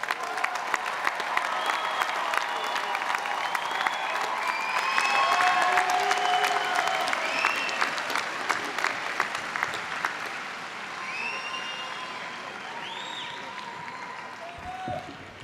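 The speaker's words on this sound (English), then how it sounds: "let's give those graduates one more round of applause" Sustained applause for graduates at a 2018 community college commencement, a large crowd clapping steadily with scattered whoops and cheers rising midway before gradually tapering.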